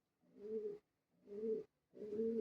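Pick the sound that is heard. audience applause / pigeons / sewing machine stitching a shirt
pigeons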